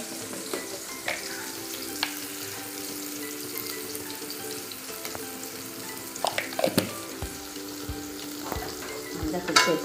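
Onion and tomato sizzle and fry in a pan with turmeric while a utensil stirs them, producing a steady crackle punctuated by sharp scraping knocks, close and fairly loud.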